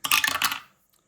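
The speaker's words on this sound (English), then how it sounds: "Roll the dice." Dice clatter briefly across a hard surface in a single quick roll, a bright rattling burst of several small knocks lasting about half a second, then silence with one faint tick.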